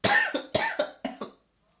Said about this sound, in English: just like coughing all the time